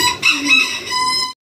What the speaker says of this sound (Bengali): বাইরে একটা মোরগ আছে, ফেন্সি মোরগটা খুব টাকাটাকি করতেছে।